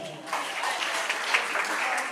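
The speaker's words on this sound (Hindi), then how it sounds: "एक बार हर्षित के लिए 2000 तालियां" Audience at a celebration for NEET-qualified students clapping in a brief, dense burst of applause, fairly close and even.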